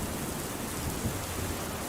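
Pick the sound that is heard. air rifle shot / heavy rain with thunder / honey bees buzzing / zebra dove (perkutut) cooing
heavy rain with thunder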